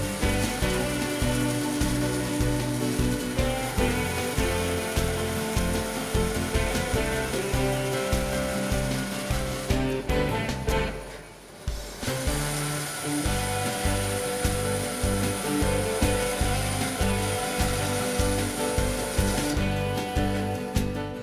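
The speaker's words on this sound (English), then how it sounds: "Working with the bandsaw table set at an angle, both of the round pieces can be cut out." Felder N4400 bandsaw with its table tilted at an angle, cutting round curved pieces for a wooden chair; a steady, loud machine whine runs throughout, with a brief dip in load partway through before cutting resumes.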